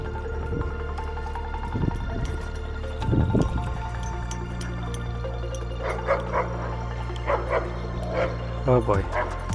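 Dogs bark repeatedly through a playback meant for noise-sensitivity training, with bursts of yips clustered toward the end, over a steady background hum.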